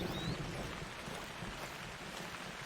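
In-game thunderstorm in theHunter: Call of the Wild, with deep rolling thunder rumbling beneath a steady wash of rain, loud and continuous throughout with no one speaking.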